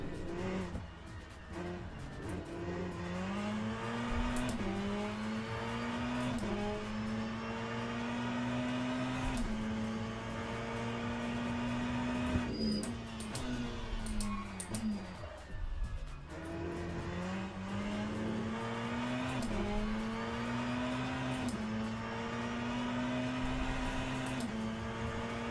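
Race car engine in the Le Mans Ultimate racing simulator, a steady loud drone with rising and falling pitch as the car accelerates and shifts gears, with occasional tire squeal, continuous throughout.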